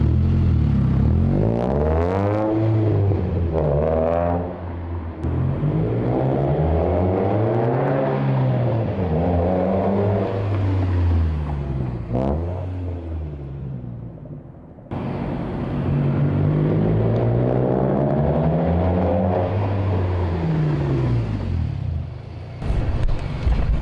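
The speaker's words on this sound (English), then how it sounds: "I'm gonna go ahead and get some exhaust clips for you guys to see how the car sounds" A worn-out car with a high-performance muffler revving repeatedly, the deep exhaust note rising and falling in long sweeps, loud and close with a brief drop to idle midway.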